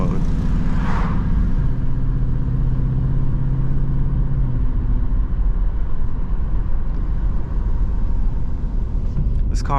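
A 2024 Ford Mustang Dark Horse roars while being driven: a loud, continuous engine rumble close up, with a rising tonal surge in the first few seconds that then settles into a steady, heavy drone. No one speaks.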